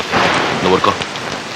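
Loud, steady rain pours down, a dense hiss filling the background while a voice speaks briefly over it.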